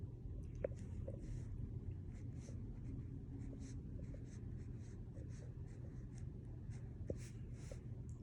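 Steady scratching strokes of someone drawing out a graph by hand for a polynomial function lesson, a continuous quiet scraping with a few faint taps, close and alone in a hushed room.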